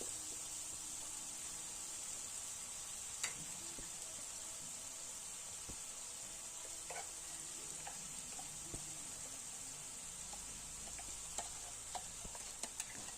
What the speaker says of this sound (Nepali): चलाएर भुट्नुपर्छ